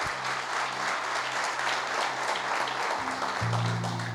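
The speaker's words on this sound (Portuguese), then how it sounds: "Vamos aplaudir forte o Senhor." A church congregation claps vigorously in praise, steady dense applause with sustained organ or keyboard notes underneath that shift near the end.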